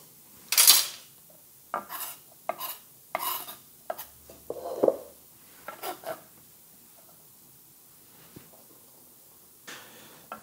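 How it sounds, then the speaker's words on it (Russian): Meat, onion and herbs are mixed by hand in a large bowl, with scattered clinks, scrapes and soft squelchy bursts of stirring separated by quiet pauses. "Теперь будем все это смешивать в одной большой чашке"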